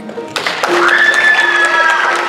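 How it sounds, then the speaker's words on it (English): A pageant audience at the Mrs. Maryland International contest breaks into loud applause and cheering, with sustained crowd noise and a few whistles rising after a brief quiet opening. "Everybody get a round of applause for Mrs. Central Maryland."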